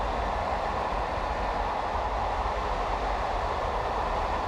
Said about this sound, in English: you can hear the sound of the train on the tracks